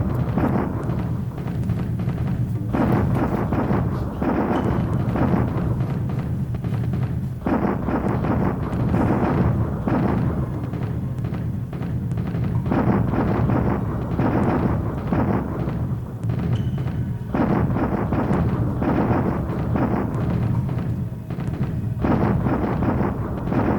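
Artillery bombardment in the War in the Pacific strategy game rolls on without a break as a dense, loud, booming rumble of overlapping blasts, with no quiet gaps throughout.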